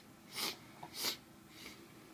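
Pre-workout powder (G Fuel) being snorted up the nose: two sharp, close nasal snorts about half a second apart, then a fainter third sniff, with quiet breathing between.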